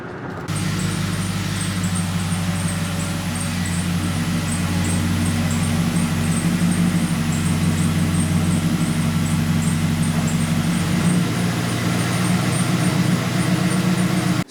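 Inside a car on a long highway drive, a steady engine drone and road rumble hold loud and constant, the low hum shifting slightly partway through, with no talking.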